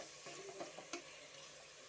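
Chopped tomatoes sauté in a pan for chicken biryani, with a soft, steady sizzle and a few quick stirring scrapes close by, fairly quiet and with no talking.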